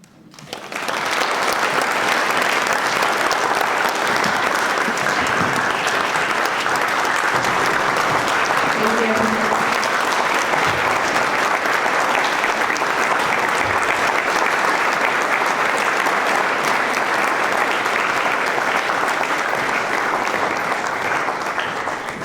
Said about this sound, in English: How about one more just round of applause for all of these amazing educators